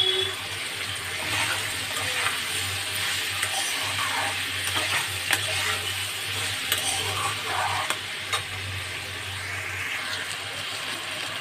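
Cut bottle gourd goes into a hilsa curry in a hot pan, frying with a steady sizzle while a spoon stirs and scrapes in irregular strokes, all at close range without talk.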